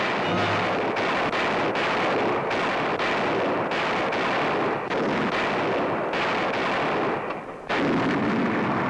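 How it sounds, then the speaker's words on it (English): Artillery shells test-fired point-blank on wartime proving grounds, a rapid series of heavy booming blasts in close succession, loud and dense with rumbling aftershock, no voices. "every day they test the quality of their work with point-blank fire on the proving grounds"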